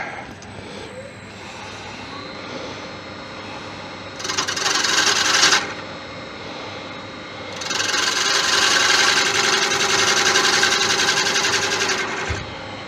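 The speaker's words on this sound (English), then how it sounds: "Sand and finish there." Sandpaper rasping against a spinning wooden skeleton clock part on a woodturning lathe, with two sustained bursts of harsh friction over the steady hum of the lathe motor.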